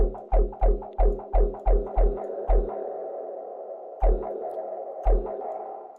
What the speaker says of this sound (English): Kind of using the chorus as like a fake reverb.